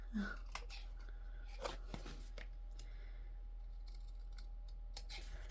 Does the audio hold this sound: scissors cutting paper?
yes